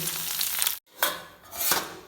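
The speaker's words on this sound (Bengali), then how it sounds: "আলু জিরা কাঁচা লঙ্কা দিয়ে শুকনো লঙ্কা দিয়ে আলু ভাজা করে দিচ্ছি" Potatoes frying in a pan with cumin, green chillies and dried red chillies, a broad sizzle broken by a brief silence and then short bursts of stirring, close and moderately loud.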